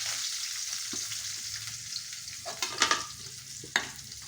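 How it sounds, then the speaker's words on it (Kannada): Mustard seeds, cumin and curry leaves frying in hot oil in a pan, a steady close sizzle with scattered crackles and a few sharper spattering pops toward the end, no talk. "ಸಾಸಿವೆ ಜೀರಿಗೆ ಹಾಕ್ಕೋಬೇಕು. ಆಮೇಲೆ ಕರಿಬೇವನ್ನು ಹಾಕ್ಕೋಬೇಕು."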